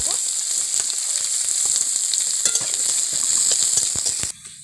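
Chopped onions and garlic fry in hot oil, a loud, close, steady sizzle with light crackling that cuts off abruptly just before the end.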